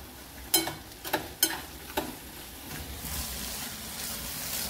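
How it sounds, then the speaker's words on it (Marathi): Mashed roasted eggplant bharit being stirred in a frying pan with coriander and turmeric, a few sharp spatula scrapes and clicks over a soft steady sizzle that grows slightly brighter toward the end. "असं छान हलवून घ्यायचं आहे"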